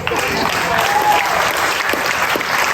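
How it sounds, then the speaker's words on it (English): A crowd at a class reunion applauds steadily and loudly, dense clapping sustained throughout without pause. "Big round of applause."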